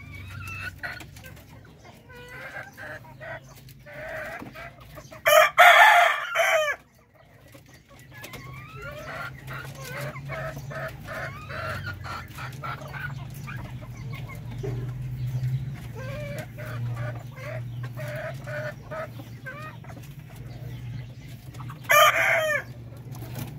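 Darag native chickens on a farm cluck steadily throughout, with two loud, near crowing bursts from a rooster, one early and one near the end, over a constant low background hum.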